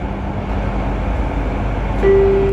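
Jakarta LRT train running on worn rails at around 60 km/h after Pancoran station, a steady low rumble with a sustained tonal hum and a bright squeal rising near the end.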